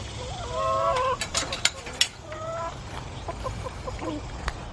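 Hens let out of their coop for the morning cluck and call in short bursts, with a few sharper squawks near the middle. The calls are close and moderately loud over a low background rumble.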